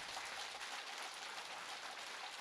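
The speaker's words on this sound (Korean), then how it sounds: "여러분 박수 한번 주십시오." Audience applause at a Buddhist dharma assembly in a hotel ballroom, a steady dense wash of many hands clapping held evenly at moderate distance with no voices on top.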